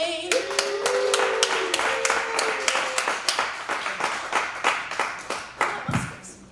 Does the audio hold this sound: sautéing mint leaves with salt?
no